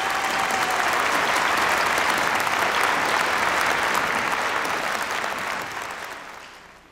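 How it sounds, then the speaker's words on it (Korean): A large audience at a peace forum applauds at length, a dense, loud, even roar of clapping that holds steady before fading away at the end. "큰 박수 한번 부탁드리겠습니다"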